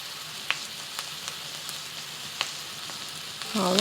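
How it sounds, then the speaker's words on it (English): Onions and ground beef frying in a pan, giving a soft, steady sizzle with a few sharp crackles and pops close by. "You just want to cook it for about 2 to 3 minutes until the onions are a bit translucent."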